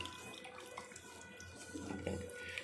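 Water is poured from a small vessel into a cooking pot for a prawn and chana dal curry, a soft, steady splashing pour at close range with no talk.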